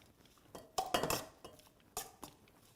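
Arugula salad tossed with olive oil and vinegar, a few soft clinking and scraping strokes of utensils against a bowl, faint and intermittent.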